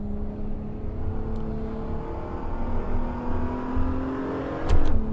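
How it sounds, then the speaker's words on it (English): A BMW Z4 road car in the racing sim Assetto Corsa drones along under steady throttle with a rising engine note, then blips sharply near the end as it downshifts. "Downshifting just sounds absolutely marvellous."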